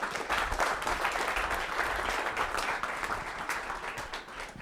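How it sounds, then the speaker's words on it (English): A conference audience applauds expert panelists at the close of a digital marketing summit, sustained moderately distant clapping from a sizable crowd lasting the whole clip with little variation. "I want to give a big round of applause for our expert panelists here."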